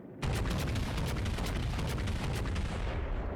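Naval guns from World of Warships fire in a sustained barrage of rapid heavy booms with deep rumble, loud and continuous throughout.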